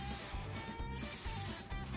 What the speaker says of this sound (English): I'm gonna spray the rolling pin down a little bit